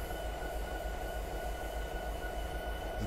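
Diesel locomotive in the Train Sim 2017 video game, a steady low rumbling drone with faint tonal hum, continuous and moderately loud with no talking.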